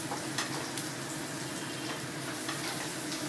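Oil sizzling steadily in a pan as something fries before macaroni goes in for a quick breakfast, a dense continuous crackle with small pops, close and loud throughout.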